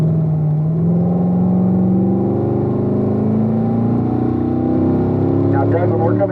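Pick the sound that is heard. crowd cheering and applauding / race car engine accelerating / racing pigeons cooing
race car engine accelerating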